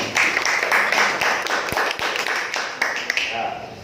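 A group in a Balinese-language teacher-training class claps hands together, a burst of fairly close claps with a few sharper taps standing out, fading toward the end.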